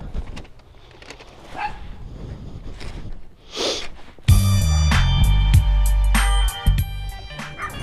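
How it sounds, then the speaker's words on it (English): Dogs bark outdoors near a Honda PCX scooter on a cold food-delivery stop in Laurel, Maryland, a few sharp yaps and snorts cutting over a loud, steady engine-like rumble that starts partway through. "There's some dogs."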